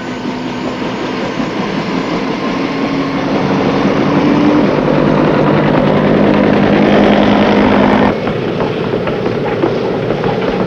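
Loud, continuous roar of Army helicopter rotors and engines operating from a Navy amphibious ship, steady throughout with a slight change in tone near the end.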